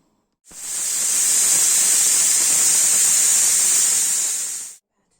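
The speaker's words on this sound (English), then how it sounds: "let the pressure cooker do her marvellous thing" A pressure cooker sealed over ragu lets out one long, loud, steady steam hiss lasting several seconds, starting and stopping abruptly with no other sound.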